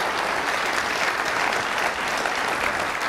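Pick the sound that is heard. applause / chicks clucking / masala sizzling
applause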